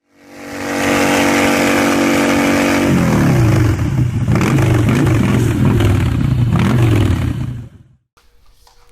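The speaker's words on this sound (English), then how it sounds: "I'm loving the bike, Ghost, and I'm getting used to riding the Road Glide, man." A Harley-Davidson Road Glide motorcycle engine revs loud and close, a steady throaty rumble that shifts into a lower, choppier tone partway through, then cuts off abruptly near the end.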